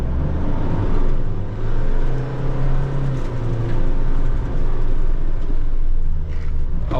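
A Mitsubishi Triton Single Cab pickup drives off-road, its engine droning loud and close with shifting revs and rumbling, with no talk over it.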